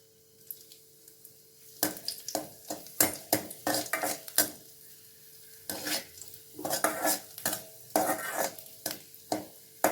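Raisins roast in ghee in a kadai as a spoon scrapes and clinks against the metal pan in irregular strokes over a faint, steady sizzle.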